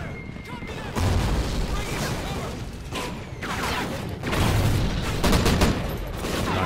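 Suppressing gunfire in the video game Call of Duty: Ghosts comes as dense, continuous bursts of rifle and machine-gun fire with booming blasts, loud and close, while a voice speaks briefly over it.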